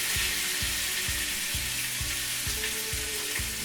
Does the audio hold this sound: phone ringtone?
no